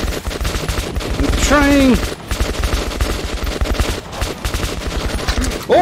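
Rapid gunfire from a first-person shooter set in Metro 2033, dense bursts throughout amid yelling, with a panicked voice shouting briefly over the shots.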